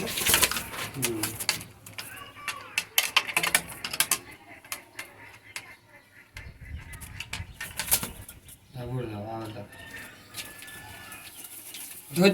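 Punjabi pigeons in a loft give intermittent soft coos amid scattered clatter and rustling, with brief bursts of nearby chatter breaking in partway through.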